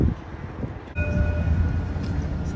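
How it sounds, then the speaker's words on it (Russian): A tram passes in Dubai: a steady, loud rolling rumble with a brief high whine, heard up close in a street setting with no speech. "Смотрите, едет трамвай."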